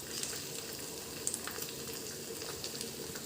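Ghee hitting rice being fried for fried rice gives a dense, even sizzle, close and steady for the whole stretch with a few small pops and crackles and no voices.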